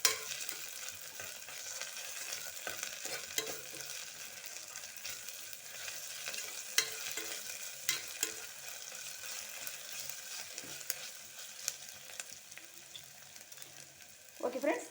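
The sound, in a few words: ginger garlic paste frying in a pan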